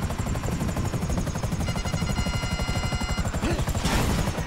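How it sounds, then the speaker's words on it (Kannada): An out-of-control helicopter in GTA V chops with fast, loud, steady rotor thumps throughout, a rising whine mixed in near the end. "ಫುಲ್ ಅನ್ಕಂಟ್ರೋಲ್ ಆಗ್ತಾ ಇದೆ ಗೈಸ್ ಹೆಲಿಕಾಪ್ಟ್ರು"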